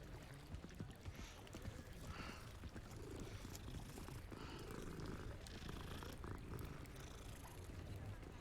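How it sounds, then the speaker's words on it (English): A cat in the video game Hogwarts Legacy purrs in a steady, low rumbling drone that runs faintly throughout, with soft ambient game sounds around it. "Oh, another cat."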